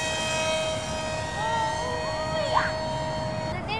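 Electric RC F-35 STOVL model jet taking off outdoors: a steady high-pitched whine of ducted fans, fairly loud and continuous, with a brief rising surge near the end.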